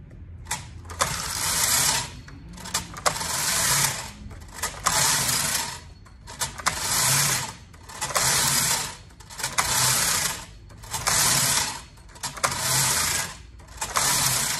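A Brother KH860 knitting machine carriage set to tuck is pushed back and forth across the needle bed, giving repeated loud whirring, clattering passes of about a second or two each, separated by short pauses.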